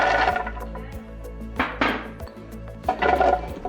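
Pitted dates and walnuts tumbling into a blender jar, a few scattered hard clunks and clatters of the pieces hitting the container, close up.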